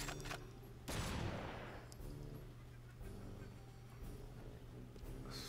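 Gunfire in the video game Red Steel, a loud burst of shots and blasts mixed with game effects and background tones, with no talk over it.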